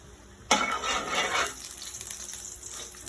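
A little cooking oil poured into a hot pan bursts into a sudden sizzle that stays bright for about a second, then fades to a steady quiet crackle, with no talking.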